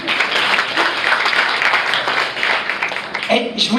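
A stand-up comedy audience claps in a dense, steady round of applause with voices mixed in, and a voice is heard briefly near the end.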